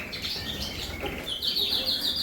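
Young cockbirds chirp in single cages in an indoor bird room, with high, scattered tweets and short calls coming through a steady low background hum.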